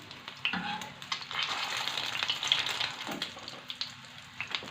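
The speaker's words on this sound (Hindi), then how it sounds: "इस तरह हम सारे फ्राई करते जाएंगे" Potato cutlets fry in a pan with a bright, crackling sizzle, interrupted by a few soft bumps as they are moved.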